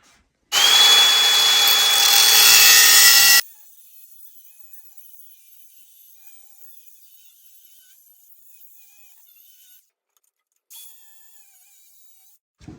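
A grinder with a cutoff wheel trims the turbo exhaust housing on a 50-year-old John Deere 450 dozer, a loud, high metallic whine for about three seconds, then a faint hum and a brief scrape later.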